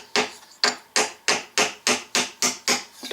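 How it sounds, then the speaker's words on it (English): A block of wood used as a hammer strikes a push pin into a can, eight sharp, evenly spaced knocks ringing out close and loud with no talk. "I'm going to use my block of wood as a hammer"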